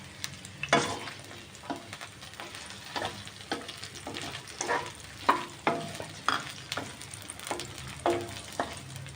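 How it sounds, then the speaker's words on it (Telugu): Thinly sliced potato pieces sizzle in hot oil with green chillies and spices for tomato rice, with a spatula stirring and scraping the pan in repeated close, irregular strokes. "ఇప్పుడు సన్నగా కట్ చేసుకున్న బంగాళదుంప ముక్కలు కూడా వేసేసుకుందాం"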